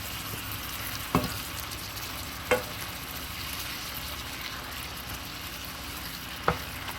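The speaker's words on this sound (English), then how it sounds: "Okay, now we're cooking the shrimp here." Pre-cooked shrimp heating in a pan with butter, a steady close sizzle and frying crackle with a few sharp clinks of stirring, with no talk.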